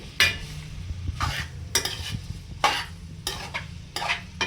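Pasta being stirred in a pan while it sizzles and fries, with a tomato sauce and chilli powder dish in progress; repeated scraping strokes of a utensil against the pan come in rhythmic bursts over a steady low sizzle, close and fairly loud.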